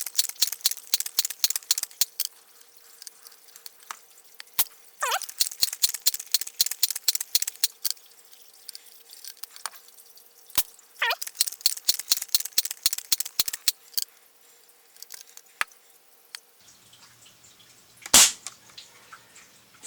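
A Crosman pump-up air rifle being pumped to ten strokes and fired, a fast series of sharp mechanical clicks and clacks in bursts, with a louder single crack near the end.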